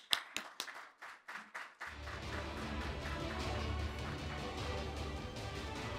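Applause from a conference audience greeting a keynote speaker, starting with a few scattered sharp claps and then swelling at about two seconds into steady, dense clapping that continues to the end.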